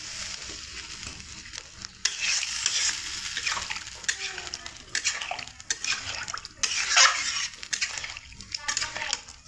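Water poured into a pan of simmering egg and potato curry and stirred, giving hissing, sizzling bursts and scraping that swell and fade in waves close up.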